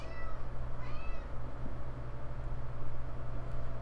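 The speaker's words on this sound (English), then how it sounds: "My cat just started yelling at me." A cat meows loudly a few times early on, two or three drawn-out cries over a steady background hum, then the hum continues alone.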